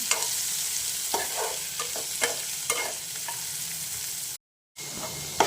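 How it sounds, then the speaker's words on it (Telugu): Onions and green chillies sauté in a pan for a ridge gourd and moong dal curry, a steady frying sizzle broken by spoon scrapes and stirring knocks, close up, with a short silent gap near the end. "ఉల్లిగడ్డలు పచ్చిమిర్చి మగ్గిపోవాలి మగ్గ పెట్టుకున్నాము"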